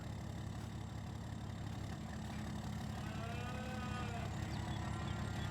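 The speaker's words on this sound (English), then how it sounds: "let's get these cows in here" Cattle lowing in a farming video game set at a country park farm, several drawn-out moos rising over a steady low engine idle, fairly quiet and distant.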